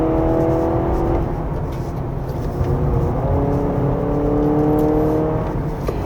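A 2025 Honda CR-V Hybrid 4WD engine drones hard under full throttle, its whining pitch climbing steadily in a couple of long rising sweeps, loud and close from inside the vehicle.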